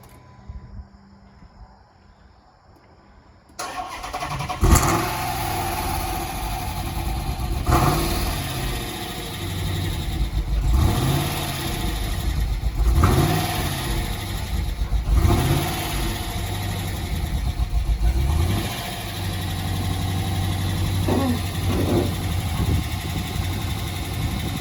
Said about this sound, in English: got a fuel relay is what we needed to hopefully start the car